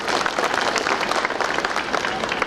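A large outdoor crowd at an election campaign rally in Ergatla applauds in a dense, continuous burst of clapping, loud and sustained.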